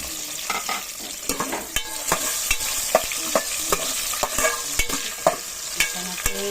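Garlic and onion sauté in a pan, a steady sizzle broken by regular sharp scrapes and taps of a spatula stirring, close and fairly loud with no voices.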